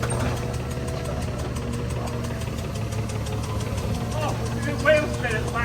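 FV4005 tank's engine runs with a steady low rumble and knocking throb while its wheels spin, nearby and continuous, with voices talking over it.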